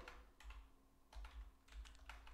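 A computer keyboard being typed on to enter a search in Windows 11: quiet, close keystrokes in three short bursts of rapid tapping, with faint low background hum.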